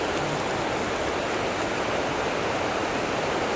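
Steady broadband rush of falling water near a fishing spot, a continuous even roar with no breaks and no voices.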